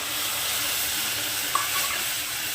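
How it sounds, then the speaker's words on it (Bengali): Water is poured into hot fried semolina in a pan, giving a steady sizzling hiss with a brief splash partway through. "এই পর্যায়ে আমি এখন এর মধ্যে যে বাটিতে আমি সুজিটা নিয়েছি সেই বাটির এক বাটি জল দিয়ে দিচ্ছি"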